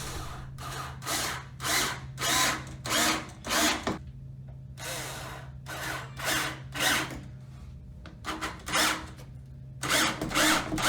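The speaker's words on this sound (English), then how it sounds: "drilled in 2 wood screws" A power drill whirs in repeated short bursts, pausing between runs as two wood screws are driven into a control panel, close and clear with a low background hum.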